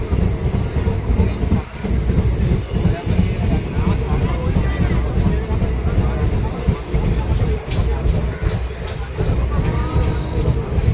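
Inside a crowded Rampurhat–Howrah Sahid Express train, a continuous loud rumble and rattle of the carriages with a babble of passengers talking underneath.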